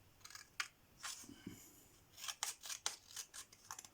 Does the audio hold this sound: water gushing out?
no